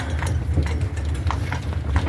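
Horse hooves clip-clop steadily at a walking pace, close by over a low rumbling background, with no voices heard.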